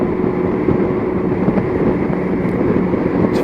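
Steady, loud broadband wind roar buffeting a closed motorcycle helmet at about 70 mph, continuous and unbroken throughout with a low rumbling undertone.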